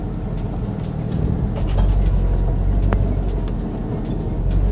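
A Lexus SC400 engine idles steadily just after start-up, following power steering fluid top-up and bleeding; a low, continuous rumble with faint higher whine stays at even loudness throughout, no talk over it.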